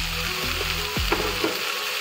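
Chicken pieces fry in a pan alongside banana flower, a steady close sizzle with a few scraping stirs of a utensil breaking through the hiss.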